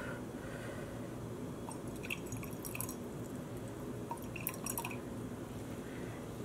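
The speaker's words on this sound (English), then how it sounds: "I've got a residual drop of some of the fuchsia and yellow in a jar, stirring the water in," Water being stirred in a jar holding a residual drop of fuchsia and yellow dye, with soft wet drips and clinks over a low background hum.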